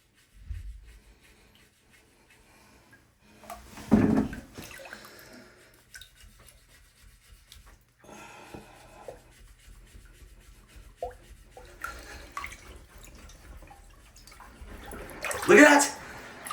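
Toilet bowl brush plunging and swishing in the water of a clogged toilet, giving bursts of wet sloshing and scrubbing separated by quiet pauses, with the loudest splashes near the start and the end.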